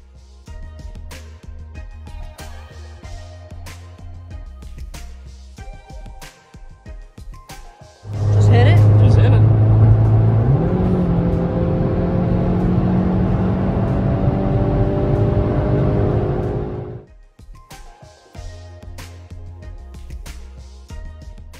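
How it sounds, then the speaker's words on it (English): A Hyundai Veloster N cruises on the highway, a loud, steady engine and road drone lasting several seconds with a rising engine tone, between quieter stretches of other sound. "Then we took the car out on the highway to test the NGS button."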